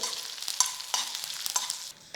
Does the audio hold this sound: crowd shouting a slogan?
no